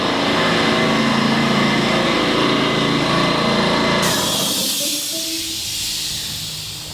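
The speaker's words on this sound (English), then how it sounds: "my air compressor just came on" An air compressor runs loudly with a dense, hissing mechanical drone for several seconds, then cuts to a lower, fading whir as it winds down nearby, during exterior trim work on a house.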